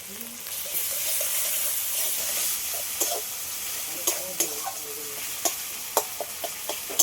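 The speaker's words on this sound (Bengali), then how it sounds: "বাটা মশলাটা দিয়ে দিচ্ছি" Ground spice paste stirred into a hot pan of frying rohu fish curry, a steady loud sizzle with scraping spoon taps growing more frequent toward the end.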